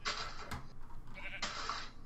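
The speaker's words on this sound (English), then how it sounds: "I hear a sheep. Where's that sheep?" A sheep bleats twice in a video game, one bleat at the start and another about a second later, both clear and close, with no talking.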